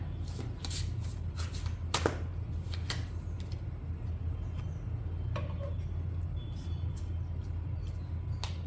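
Tarot cards are shuffled and drawn, with a steady run of soft papery riffles and sharper flicks and snaps over a constant low hum, close and fairly quiet with no talking.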